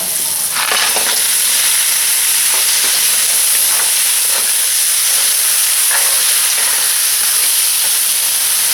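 A mud crab goes into a hot pan, producing a loud, steady sizzle and hiss that fills the whole stretch, with faint scattered ticks and scrapes of stirring and no talking.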